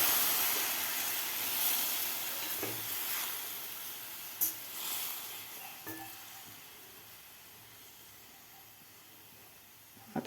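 Water poured into baby potatoes frying in masala in a pan sizzles faintly and steadily, fading gradually with a couple of soft clinks along the way and no talking.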